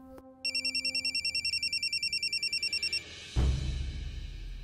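A mobile phone rings with an incoming call in a home setting, its electronic ringtone pulsing in a steady rapid pattern for about two and a half seconds, near and clear, before it stops and a louder rumble of background noise follows.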